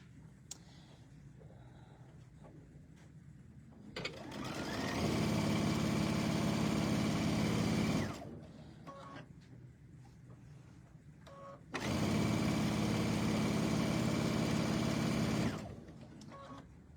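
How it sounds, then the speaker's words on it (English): Sewing machine stitching a towel bag seam with a half-inch seam allowance, two sustained bursts of fast, close mechanical whirring, each about four seconds long, separated by quieter handling sounds of the fabric. "we're going to stitch this all together with a 1/2 inch seam allowance"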